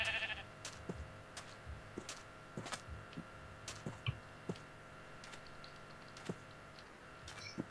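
Sheep bleating in the Minecraft video game, a faint bleat near the start amid steady soft keyboard clicking, quiet overall with no talk.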